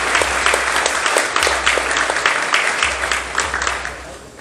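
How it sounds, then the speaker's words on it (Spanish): A church congregation bursts into loud applause after the reading of the Lord's word, a full, close wash of many hands clapping steadily over a low hum, fading slightly toward the end. "Y con un fuerte aplauso recibimos la palabra del Señor."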